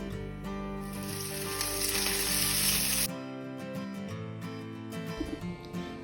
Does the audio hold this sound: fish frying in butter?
yes